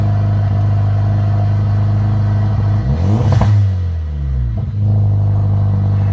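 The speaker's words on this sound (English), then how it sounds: "I don't want to rev it too hard because this is a cold." Hyundai Veloster Turbo engine revved while still cold, a single rising and falling rev swelling over a steady idle rumble, close and loud with no talking.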